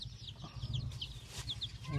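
Hens cluck in short repeated calls over a steady farmyard hum, fairly close, with a rooster-like call rising near the end.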